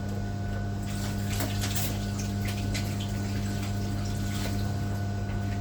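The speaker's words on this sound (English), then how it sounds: "let me rinse my hand off" Hands being rinsed under a running kitchen tap while dumplings are cooked, a continuous close rush of flowing water with a steady hum underneath and no pauses.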